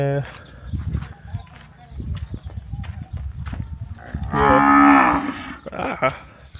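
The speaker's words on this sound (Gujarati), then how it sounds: "બે ગાય અહીંયા છે" Cows moo on a village farm plot; one long, loud moo rises clearly near the middle, with people talking excitedly before and after it.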